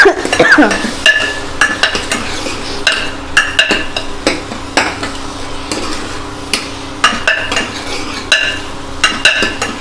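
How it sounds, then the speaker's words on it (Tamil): Tomatoes with coriander and mint sauté in a pan for mutton paya, a spatula clanking and scraping against the metal in repeated strokes over a continuous sizzle, close and fairly loud. "தக்காளி வந்து நல்லா வந்து மைய வதங்கணும்."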